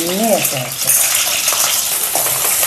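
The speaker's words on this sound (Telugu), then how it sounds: "ఇంకా పోపులన్నీ వేసేయాలి అందులో" Spices sizzle and crackle loudly in hot oil while tempering for orange pulihora, a steady bright hiss throughout, with a brief voice heard at the very start.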